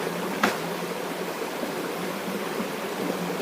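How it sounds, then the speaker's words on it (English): A Vermont gold-panning stream runs steadily close by, a constant broadband rush of flowing water with one brief sharp knock near the start and no voices. "Stream's running."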